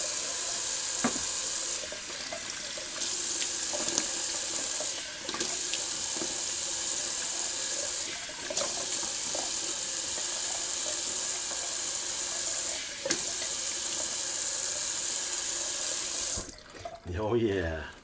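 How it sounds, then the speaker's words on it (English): Water runs steadily from a tap into a sink for a long stretch, with small splashes and clatters, then shuts off near the end. "Just gonna do a little cold water rinse."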